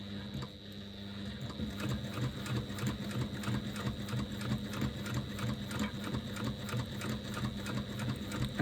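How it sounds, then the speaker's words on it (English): A sewing machine basting a seam along the bottom edge of a fabric bag panel with sew-in foam, a steady rapid mechanical whirring and ticking that runs close and continuously. "I'm just going to sew baste that again, whoops a daisy, at 1/8 of an inch seam allowance along the bottom"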